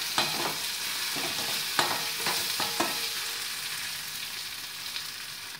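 Ivy gourd stir-fry dusted with pepper and cumin powder sizzles steadily in a pan, with a cluster of spatula taps and scrapes early on, then settling into an even hiss without speech.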